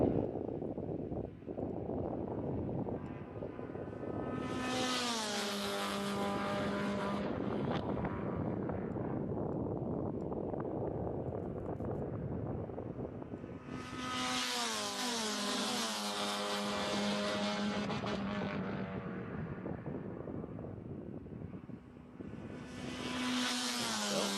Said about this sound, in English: let you guys listen to these cars as they come by